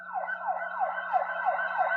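An ambulance siren sound effect wails in rapid repeating sweeps, loud and continuous for two seconds, with a faint steady hum beneath and no talking.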